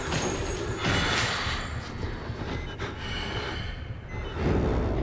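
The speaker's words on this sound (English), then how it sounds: "Damn, that breathing, though." Heavy, ragged breathing from an enemy in the horror video game Outlast: loud, close, rasping breaths with gasping and snorting swells that continue without a break.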